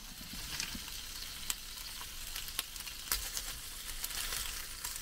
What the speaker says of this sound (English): I'm using the Ridgemonkey to cook the bacon.